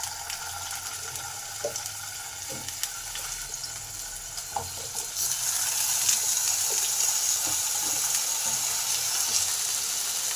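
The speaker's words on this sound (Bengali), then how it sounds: "আলুগুলোকে ভেজে নেব" Cut potatoes fry in hot oil with a steady sizzle that grows louder partway through, punctuated by occasional light clicks and stirring taps.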